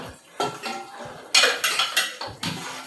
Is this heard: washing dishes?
yes